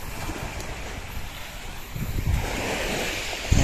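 Ocean waves wash onto a flat white sand beach lined with coconut trees in San Narciso, a steady close surf roar with wind buffeting the microphone and a heavier surge near the end.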